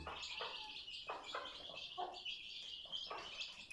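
Busy chirping and peeping from several chicks, high and continuous, with a few louder clucking calls from a hen close by.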